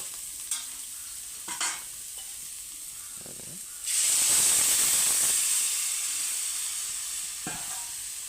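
Cauliflower curry is stirred in a cooking pan, with scattered scraping clicks from the spoon and then a loud steamy sizzle-hiss that swells around the midpoint and fades slowly, alone without talk.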